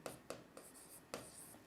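Chalk or marker strokes on a classroom board during an engineering graphics lecture on projection of a line: a few short, scratchy taps and strokes, fairly quiet and close, with no talking.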